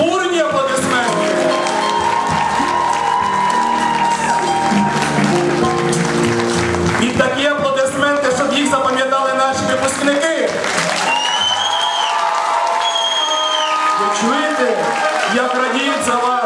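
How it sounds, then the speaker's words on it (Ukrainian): A crowd applauds the graduates at School No. 16's 2014 graduation ceremony in Kremenchuk, a sustained clapping wash beneath loud music and an announcer's voice. "Під ваші бурні аплодисменти!"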